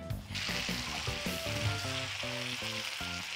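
Loud, steady sizzling of small pieces of salted, peppered meat frying in a red-hot pan for a meat and potato stew, with a tuneful melody playing underneath throughout.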